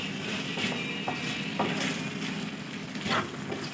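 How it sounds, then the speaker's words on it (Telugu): Chicken liver fry with chilli and salt keeps sizzling in a pan as it is stirred, a steady close crackle broken by soft scraping strokes of the utensil. "ఇలా మిక్స్ చేసుకుంటూ ఉండాలి."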